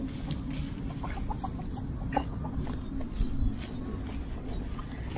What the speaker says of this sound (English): Get away, chickens.